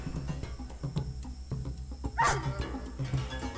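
A dog barks once in the video game Curious Expedition 2, a short sharp yelp over steady game music and ambience. No one talks.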